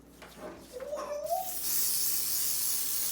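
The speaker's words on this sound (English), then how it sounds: "Take the spray. I'm gonna try spraying. And I like to spray the sides." A steady, loud hiss of a spray adhesive can spraying pine cones starts after a brief voice and continues without a break to the end.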